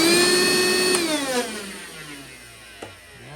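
A repaired Dewalt DCV580 20-volt cordless vacuum whirs at a steady high pitch for about a second, then spins down with a falling tone into a fading hum, with a brief click near the end.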